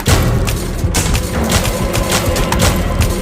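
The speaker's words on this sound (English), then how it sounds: "She's banging on the door." Rapid, heavy banging on a door in a VR horror video game, loud and continuous with dense overlapping thuds and booms throughout.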